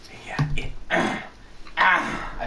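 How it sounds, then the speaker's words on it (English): A man clears his throat a few times in short, rough bursts, close to the microphone and fairly loud, with a couple of gruff noises spread over a couple of seconds. "I have to clear my throat at the mention, the mere thought of Homestuck."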